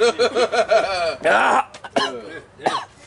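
Several harsh coughs and throat-clearing bursts in quick succession, close and loud, with a short gap before a final cough.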